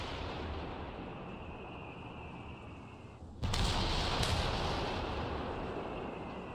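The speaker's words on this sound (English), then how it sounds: "Artillery cooldown complete." Artillery fire in a wartime video game, a continuous rumbling barrage of distant booms that swells abruptly louder and heavier about halfway through, with no voices heard.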